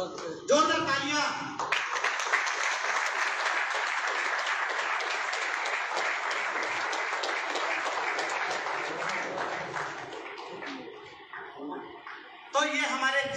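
An audience at a company offers meeting in Jharkhand claps loudly for achievers of a Goa tour, a long steady round of applause that tails off with scattered claps, framed by a speaker talking at both ends.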